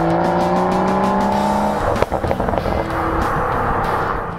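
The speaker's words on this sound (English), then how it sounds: "When the top is down, every crackle and pop is amplified in Sport Plus mode." BMW Z4 M40i roadster engine in Sport Plus mode with the top down, a steady loud exhaust drone that breaks around midway into a burst of sharp crackles and pops before settling back into a rougher idle-like rumble.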